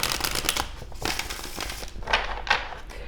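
A tarot deck of cards is shuffled in quick riffling bursts, close and crisp, with soft rustling pauses between the bursts.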